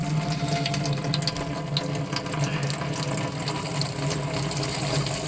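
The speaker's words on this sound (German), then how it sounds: "Und da kommt das Wasser." Water rushes steadily from the tap in a camper van once the pump primes, a continuous close gush with a low pump hum beneath and sputters from air still in the line.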